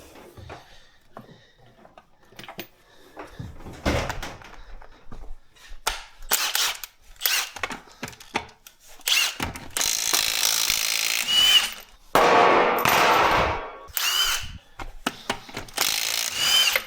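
A loud impact wrench loosens car wheel bolts in long rattling bursts, hammering and buzzing close by, with shorter clanks and handling noises between the runs.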